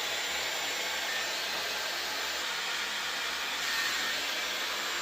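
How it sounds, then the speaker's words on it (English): Dyson Airwrap hair dryer fitted with a diffuser attachment, drying curly hair: a loud, steady whooshing blow of air running unbroken throughout, close to the microphone, with a slight swell near the end and no talking. "This is just the Dyson Airwrap, and I have the diffuser attachment for it"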